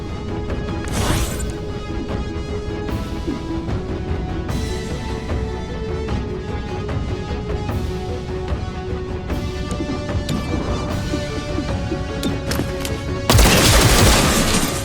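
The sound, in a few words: gunshots in XCOM Chimera Squad video game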